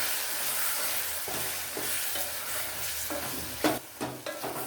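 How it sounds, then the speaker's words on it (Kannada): Tomato masala with Kashmiri chilli powder frying for a green peas curry, with a continuous sizzle and louder scraping stirs clustered toward the end, close by. "Kashmir chilli powder 1 tea spoon ಅಷ್ಟು ಹಾಕ್ಕೊಂಡು ಚೆನ್ನಾಗಿ ಹುರ್ಕೋಬೇಕು."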